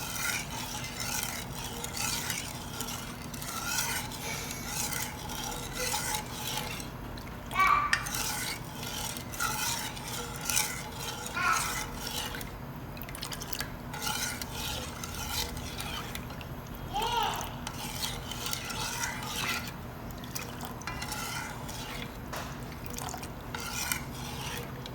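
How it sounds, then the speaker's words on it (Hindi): A spoon stirs sugar into water for a tamarind and plum sharbat, scraping and swirling continuously against the container with a few clinks, close and moderately quiet. "जब तक शुगर इसमें मिक्स नहीं हो जाती हम इसमें चम्मच हिलाते रहेंगे"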